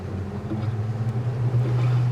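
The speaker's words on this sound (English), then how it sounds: "They equipped it with a 350 horsepower Mercury outboard." A 350 horsepower Mercury outboard motor on a Cranchi E26 Rider boat drones steadily at a low pitch on a very windy day, with wind and water noise around it.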